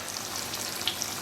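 Falafel chickpea patties fry in hot oil with a steady, close crackling sizzle and scattered sharper pops, no talking.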